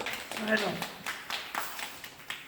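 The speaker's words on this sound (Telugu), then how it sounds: "చప్పట్లు" A gathering at a devotional prize draw breaks into scattered rhythmic hand claps, fairly soft and a little distant, with a voice speaking over the start.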